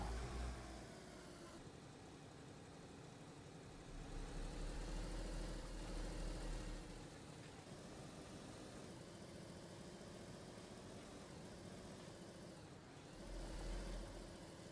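An ADA car engine in DayZ on Chernarus hums along at a faint, steady drone while driving, with a few swells of low rumble as it accelerates. No voices.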